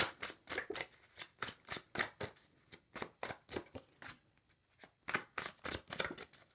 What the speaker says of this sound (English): I'll pull all the cards out on the table